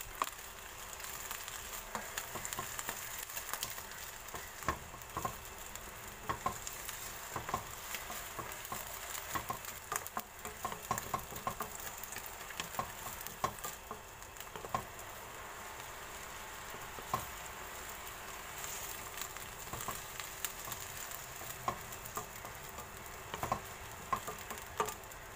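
Indomie instant noodles cooking in a pan for mie nyemek, a continuous soft sizzle and patter with scattered small pops and ticks, steady and close throughout with no talking.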